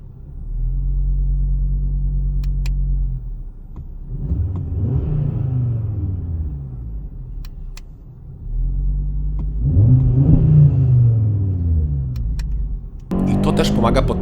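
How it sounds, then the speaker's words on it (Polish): Audi RS3 sedan, 2025, with 2.5 TFSI five-cylinder engine in sport mode, rumbling at idle then swelling in two throaty revs of engine and exhaust, with someone talking over it and a sharp crackle at the end. "jak włączymy tryb sportowy, to wydech i silnik od razu inaczej pracują, bo samochód wchodzi na wyższe obroty."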